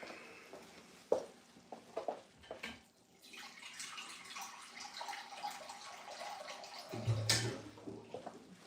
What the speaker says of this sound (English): So we're gonna add more water.